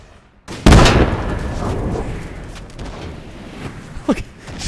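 Artillery cannon fire booms across a Napoleon: Total War battlefield, as a crew fires round shot. One loud, close blast is followed by long rolling rumble, then lighter, scattered distant reports.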